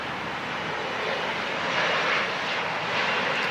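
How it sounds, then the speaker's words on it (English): An Embraer E-175 regional jet roars steadily down the runway on its takeoff roll at Los Angeles International Airport, a loud, sustained broadband engine rush that swells slightly partway through, with no talk. "Speeding down the runway, the little E-175."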